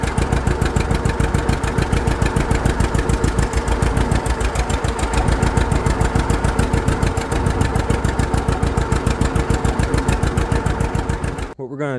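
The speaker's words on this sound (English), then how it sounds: "Clutch still makes noise." A small engine with a noisy clutch idles steadily close by, its rapid, even chugging filling the whole stretch and cutting off abruptly at the end.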